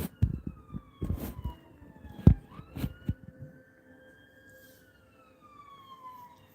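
A police car siren passes outside, its wail faint and gliding downward in pitch behind a few loud, close knocks and thumps near the start.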